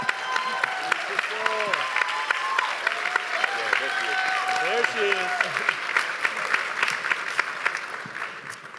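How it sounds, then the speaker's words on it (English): An audience applauds a guest from the film at a screening discussion, sustained clapping throughout with a voice speaking briefly over it and a few cheers mixed in. "We give her a round of applause."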